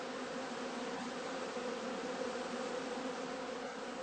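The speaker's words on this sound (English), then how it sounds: "On sunny and warm October days, bees can still be seen flying, before they cluster together for the cold winter months." Honeybees flying around heather skep hives in an outdoor apiary on a sunny October day, making a faint, steady buzzing hum in the distance.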